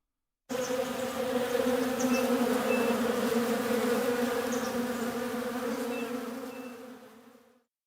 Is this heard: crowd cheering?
no